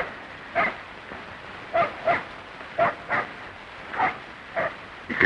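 A dog barks at night in rural Mexico during the revolutionary era, giving about nine short separate woofs at an irregular pace, fairly distant and moderately loud, with no other sounds around them.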